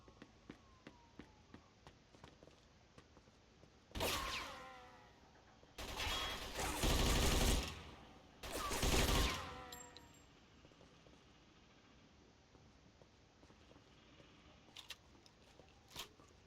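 Bursts of gunfire ring out in a Mafia II firefight on a dock, three loud rapid volleys separated by short pauses, with scattered sharp single shots around them against a quiet background.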